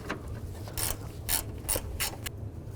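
A ratchet turns out 10mm bolts on a 2005-15 Nissan Xterra during radiator replacement, in several quick close-up bursts of clicking separated by short pauses.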